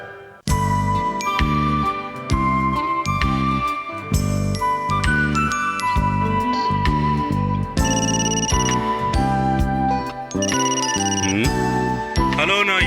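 A phone's musical ringtone plays loudly and continuously for about twelve seconds, a bright melodic jingle with a steady beat and no voices over it.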